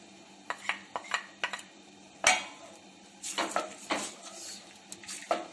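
Onions added to a pan for turnip bhujia and stirred with a metal spoon, a series of close clanks and scrapes against the pan with a faint sizzle, no talking.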